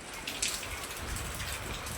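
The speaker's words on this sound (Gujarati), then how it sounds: "વરસાદ આવે" Steady rain pouring down near a home where water collects, a continuous close hiss of falling drops with a few brighter splashes, heard alone.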